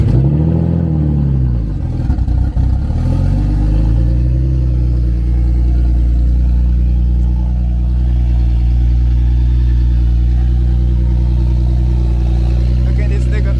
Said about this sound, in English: Loud as fuck because the exhaust is disconnected.